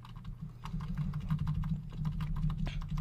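Arrow keys tapped on a computer keyboard while nudging an image into place, a run of quick, close, light clicks over a steady low hum, with no one talking.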